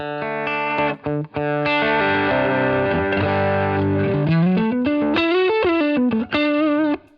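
Overdriven electric guitar through a Blues Breaker overdrive pedal into a Line 6 Catalyst 100 amp, playing sustained chords and bending single-note lines, with a warm mid-gain crunch and ringing sustain, loud and close.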